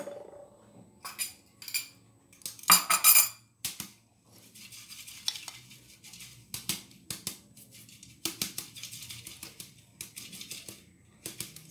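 Dry ingredients for a semolina chocolate basbousa shaken through a sieve, a faint, gritty rustling in short irregular bursts, with one louder scraping burst early on and quiet pauses between.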